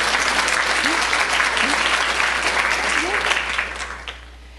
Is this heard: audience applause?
yes